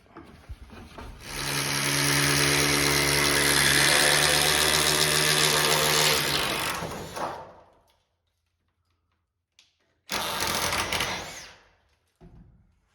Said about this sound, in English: He's drilling all the holes.